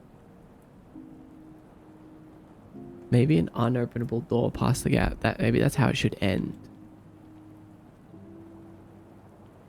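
Soft rain sound effects from an indie video game hiss steadily beneath calm, sustained background music, with a stretch of close speech laid over the middle.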